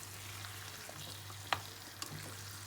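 Chicken sautéing in a pan with smashed tomato, garlic and spices for pepper chicken gravy, a quiet steady sizzle broken by a sharp clink of the spoon and a lighter tap.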